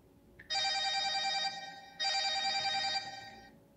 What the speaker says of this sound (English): Rosemary gets a phone call from her sister Margaret